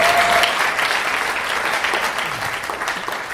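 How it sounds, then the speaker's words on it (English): An audience claps for international guests from St. Catharines, Ontario, a full round of applause that starts strong and slowly tapers over a few seconds, with no voices over it. "Let's give them a big round of applause."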